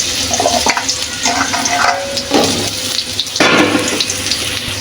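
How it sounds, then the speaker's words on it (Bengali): Potato pieces go into hot oil in a wok-style pan for an egg and potato curry, giving a steady bright sizzle and hiss with stirring and scraping throughout, close and fairly loud, with no talking. "তেল গরম হয়ে আসলে আমি আলুগুলো দিয়ে দিব।"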